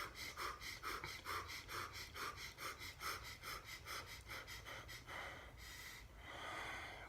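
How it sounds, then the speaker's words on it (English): Burst breathing during Systema training: a repeated sequence of quick sharp nasal inhales each followed by an open-mouth exhale, close and fairly quiet, in an even rhythm of roughly a dozen cycles. "burst breathing is a quick inhale through the nose, and then you open your mouth and just allow the air to come out"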